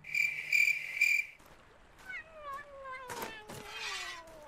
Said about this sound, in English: a meow from a cat, who was probably hiding somewhere traumatized from the giant rats